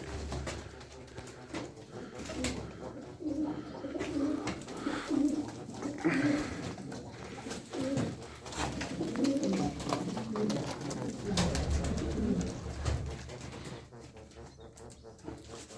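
Pigeons cooing in low, rolling throaty calls that repeat throughout, mixed with bursts of wing flapping and rustling, close by in a loft or coop, with no one speaking.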